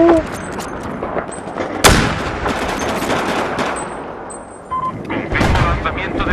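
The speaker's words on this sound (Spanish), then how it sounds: "Confirmo lanzamiento de misil. Impacto inminente." Missile launch and explosion in the video game Battlefield 4, a loud sharp blast followed by dense rumbling gunfire and booms, with beeping game sounds and brief electronic tones over the clamor.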